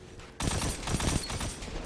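Gunfire from the Crimson, a pulse cannon in a video game, bursts in suddenly as a dense, rapid volley of loud shots that keeps going to the end.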